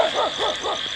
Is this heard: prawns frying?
no